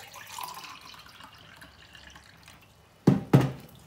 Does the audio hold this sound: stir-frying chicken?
no